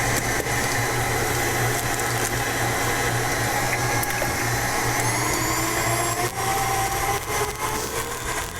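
An electric mixer beats two room-temperature eggs into cake batter for a blueberry lemon upside-down cake, giving a steady, continuous whirring drone with a constant motor pitch and slight rattling, loud and alone throughout.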